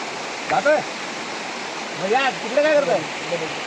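Bhandardara waterfall roars as a constant rushing wash throughout, with people speaking in Marathi over it.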